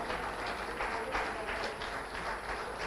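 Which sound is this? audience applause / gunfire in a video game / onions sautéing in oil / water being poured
audience applause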